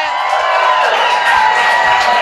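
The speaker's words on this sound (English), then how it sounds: "That's maybe the loudest applause we've heard all night" A live audience applauds and cheers loudly and steadily for drag performer Kween Boo, a dense crowd roar with whoops throughout and no words spoken.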